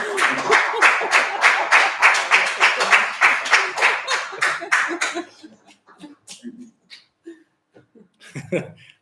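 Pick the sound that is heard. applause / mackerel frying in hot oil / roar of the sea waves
applause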